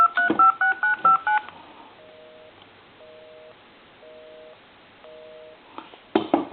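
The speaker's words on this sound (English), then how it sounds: "I'm going to hang up. I'm going to hit redial." A quick burst of touch-tone dialing beeps from a redial on a wood wall telephone, then four evenly spaced ringback tones on a quiet line, followed by a click and a clatter.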